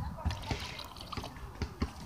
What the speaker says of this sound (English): She's getting the water so she can wash her wings,